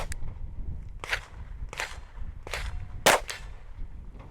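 Gunshots from a rifle at a firing range, four sharp, fairly close reports spaced about a second apart, with muffled background noise and no talking.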